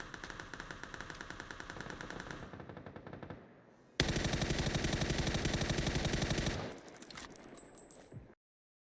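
Sustained automatic bursts from an M4 rifle in PUBG on console, a rapid even rattle of shots that pauses briefly, then resumes louder and closer before cutting off, with a metallic jingle near the end.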